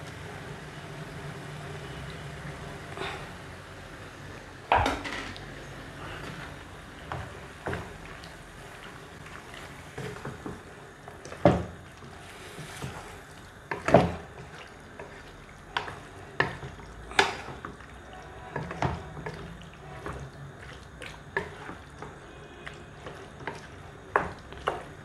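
Tomato sauce is added to chicken in a pan and stirred, giving quiet scraping, gentle sizzling and scattered soft clinks of a utensil against the pan, all fairly faint.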